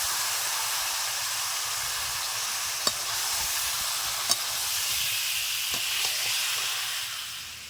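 Large-cut potato chunks frying in a pan for a chicken dish, a soft, steady hiss of oil with a few faint clinks, close and fairly quiet.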